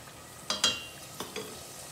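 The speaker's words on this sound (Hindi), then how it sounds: "मसाले को भून लेंगे।" Chicken pieces being fried with spices for a smoky chicken biryani: a low, steady sizzle under a few sharp spatula scrapes and knocks against the pan, close and moderately quiet, with no voices.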